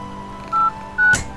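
Two short electronic telephone dialing tones beep in quick succession in a video game, clear and close, followed by a brief click, with no talk over them.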